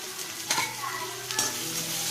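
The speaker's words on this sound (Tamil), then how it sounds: "இப்போ வெங்காயம் நல்லா வதங்கணும், ப்ரௌன் கலரில் வரணும்" Onions frying with salt in a pan for prawn gravy, a steady sizzle with two sharp scraping stirs of a utensil against the pan, close and clear, no talking.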